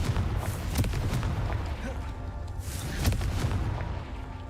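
Confringo blasting spell explosions in the Hogwarts Legacy video game: two heavy booming bursts about two seconds apart, loud and close over a constant rumbling game background.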